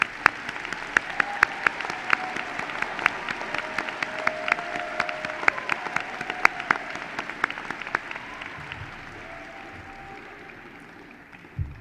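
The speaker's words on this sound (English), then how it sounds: "There you go. Round of applause." Commencement audience applause fills a large hall in a steady wash of many hands, with sharp individual claps popping out near and far throughout, sustained for about twelve seconds before tapering off.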